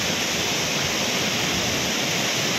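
Pulang Batu Falls in strong flood after a storm sends a dense, steady roar of rushing water, loud and close, filling the whole stretch without pause.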